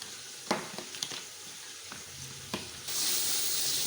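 Chicken is stirred in a pan with yogurt and Shan biryani masala for Karachi-style biryani, with several scraping stir strokes over a soft sizzle that grows into a louder, steady frying hiss near the end, no talk.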